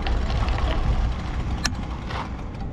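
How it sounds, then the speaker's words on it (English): Traffic on SR-50, a rural Florida highway with little shoulder, a steady rumble of passing cars and engines with a brief sharp click midway, heard from the roadside. "I hear the cars coming."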